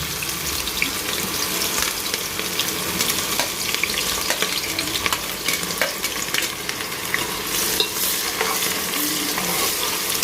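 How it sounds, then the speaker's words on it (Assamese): Chopped onions fry in refined oil in a pressure cooker, a constant close sizzle with frequent scraping stirs and occasional sharp ticks, steady throughout. "পিঁয়াজখিনি মই ৰঙচুৱাকৈ ভাজি ল'ম"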